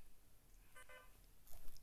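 A phone in the Roblox game Brookhaven dials the police with a few short electronic keypad tones, faint and quiet over a low background hiss.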